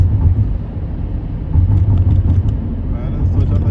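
Dubai road traffic in rainy weather near Mirdif City Centre heard from inside a vehicle: a continuous low rumble of engines and tires, with someone talking over it throughout.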